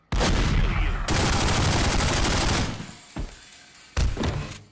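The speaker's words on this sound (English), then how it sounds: "Ooh, I've got a little bit of Tommy gun." Sustained Tommy gun bursts in The Godfather video game, loud and close, with a long rattling volley followed by a couple of short separate bursts.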